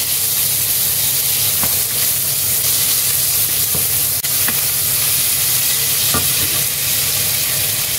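Meat sautéing in a pan for ginisang kalabasa, a steady close sizzle and hiss running throughout with a few soft scrapes of stirring, loud and continuous with no talk.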